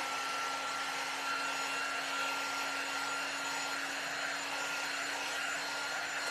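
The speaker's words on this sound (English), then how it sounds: "This is the quick drying tool that you can get." Quick drying heat tool blowing on chalk paste, a steady whooshing fan roar with a constant whine, continuous and fairly close, with no talking.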